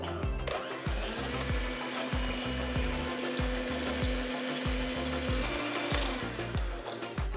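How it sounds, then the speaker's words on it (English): Chilled egg whites beaten for a Japanese souffle pancake batter, a steady loud mixer whir with a repeating rhythmic scraping pulse around the bowl, continuous and alone. "Now I'm going to beat the chilled egg whites."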